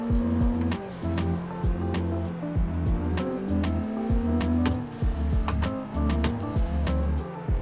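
A drifting car in a sim racing game, its engine droning and revving in pulses with clutch kicks and the tires squealing, loud and steady throughout with no voices.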